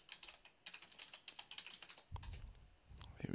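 Rapid keystrokes of a password typed on a computer keyboard, a quick run of light, close clicks followed by a heavier thump and a brief pause before a few more taps.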